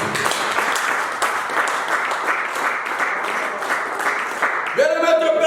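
A church congregation applauds in steady, dense clapping that fills the room, close and lively, before a voice speaks over it near the end.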